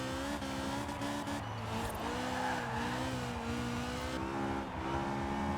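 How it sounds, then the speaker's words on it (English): Rally car engine of a Ford in Forza Horizon 4, revving and shifting, with rising and falling pitch, tire noise and occasional skids, loud and continuous. "it sounds like a proper rally car. Like a classic rally car"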